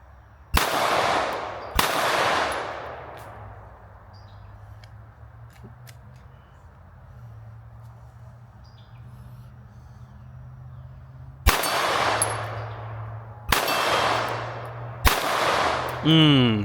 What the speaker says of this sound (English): 35 yards, 5 shots